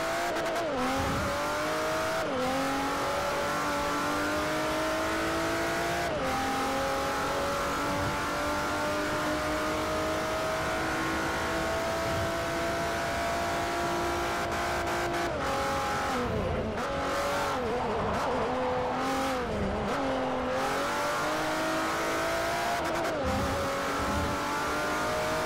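A race car engine in Forza Motorsport 4 roars continuously around a track, its pitch climbing through the gears with sharp drops at each shift. Brief tire squeals and lifts in revs come at the corners, loud and up front.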